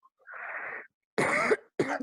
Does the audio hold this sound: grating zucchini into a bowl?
no